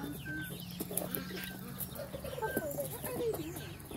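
Chickens cluck and a rooster calls in short bursts at close range, over a low steady hum and faint background voices, as peacocks and chickens are being moved.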